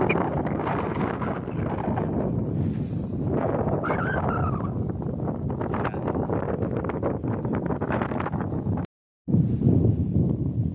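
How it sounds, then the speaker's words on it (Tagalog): Strong wind roaring across a rice field planted with variety 218 in Natividad, Nueva Ecija, buffeting the microphone in a continuous loud rumble with a brief dropout near the end. "At pakalakas ng hangin."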